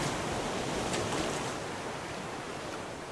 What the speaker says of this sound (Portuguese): Olha a onda, fi.